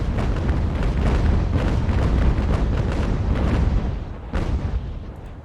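Naval cannons from sailing warships in Ultimate Admiral: Age of Sail fire a rolling broadside, a dense run of heavy booms packed together for several seconds and then easing off, with one last loud report near the end.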